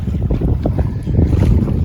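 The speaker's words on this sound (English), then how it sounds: "Seven knots of wind." Wind rushes past a trailerable yacht sailing off Croatia in about seven knots of breeze, a loud, close, buffeting roar with gusty swells and a faint wash of water beneath.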